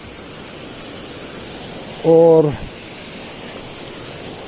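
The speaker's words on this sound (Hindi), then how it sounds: "ये देखो कितना भव्य, कितना सुंदर वाटरफॉल है।" A steady broadband roar of white water from a large waterfall on the trail from Kedarnath temple, continuous throughout, with a brief voice cutting in near the middle.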